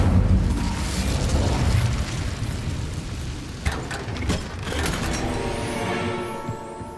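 A fire spell cast in Hogwarts Legacy, a loud roaring burst with crackling flame that swells, flares sharply partway through and then trails off over a steady game ambience.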